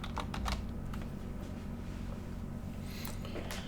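Keys clatter on a computer keyboard as a password is typed, a quick run of close, crisp clicks and taps over a steady low room hum.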